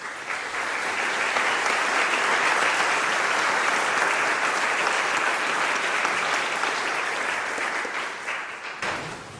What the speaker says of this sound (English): I'd like to applaud the people who have supported these students this year.